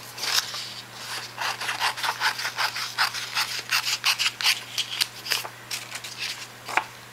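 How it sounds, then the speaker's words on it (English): Scissors cut out a drawing on heavy copy paper, a close series of rhythmic snipping and rustling strokes repeating steadily throughout with no talking. "So I'm going to cut this out,"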